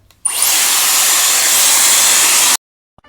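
Dyson Airwrap hair dryer blasting at full power, a loud steady airy whoosh with a thin high whine, starting abruptly and cutting off cleanly after about two seconds, followed by near silence.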